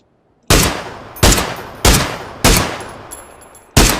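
Gunfire in the PUBG (Battlegrounds) video game: five loud, sharp single shots at roughly even intervals, each with a short fading tail, alone without talk.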